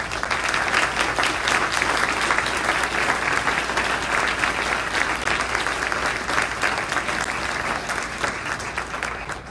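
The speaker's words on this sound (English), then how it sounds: "I think we should give everyone a round of applause." An audience applauds at a public talk on evictions in North Minneapolis, the clapping steady and full throughout with no break or voices on top.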